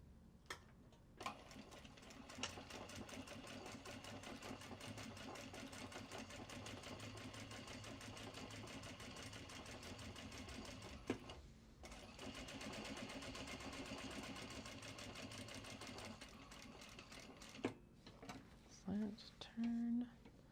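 A sewing machine runs in long steady bursts of stitching along a seam, with a brief pause midway and soft handling noises toward the end.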